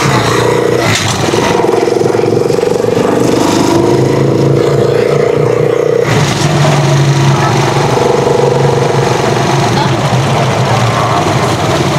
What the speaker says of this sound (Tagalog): Ah, may motor.